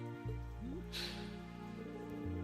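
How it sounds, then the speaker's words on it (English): Steady rain in the video game Trails of Cold Steel III, a continuous hiss of falling drops under tonal game music, with a brief brighter splash-like burst near the middle. "And it started raining so suddenly."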